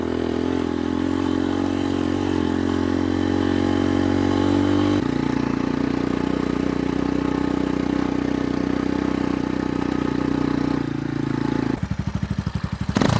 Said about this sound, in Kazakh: Мотоцикліміз әлі бабында, қанша жоғары қарай шықса да, дауысын естісеңіздер міне